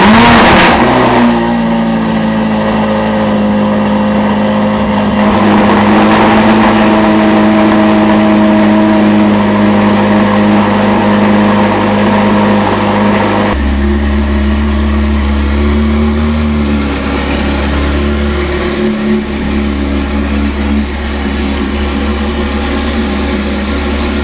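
A Corvette C8 Z06 V8 with aftermarket headers idles with a deep, loud burble, then revs up sharply, its throaty roar rising and falling alone.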